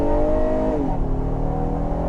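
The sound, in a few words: 2021 Honda Odyssey engine revving at full power acceleration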